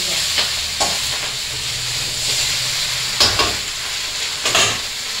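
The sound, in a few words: fish heads frying and being stirred in pan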